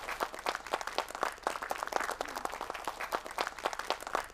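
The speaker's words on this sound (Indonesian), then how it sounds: "Tepuk tangan buat Ibu Nila." An audience at an Islamic talk applauds, a short burst of fairly faint, dense clapping that holds steady throughout.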